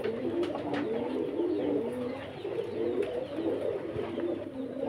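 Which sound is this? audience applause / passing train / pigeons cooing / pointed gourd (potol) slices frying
pigeons cooing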